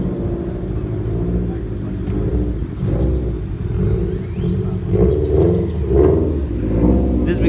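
A truck engine at a truck show of C10 pickups in a park rumbles deep and close, with several throaty revs that rise and fall over the steady idle.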